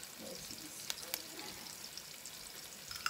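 Garlic sizzles in a pan for chicken feet adobo, a soft, steady frying crackle with a few light stirring clicks, heard faintly and without talk.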